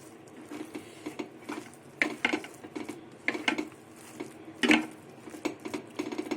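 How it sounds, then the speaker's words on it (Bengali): Egg and lentil kofta mixture being worked by hand in a bowl, with irregular close clatters, taps and soft squelching scrapes against the dish, and no one speaking. "এবার সব কিছু দিয়ে ভালো করে মিশিয়ে মেখে নেব"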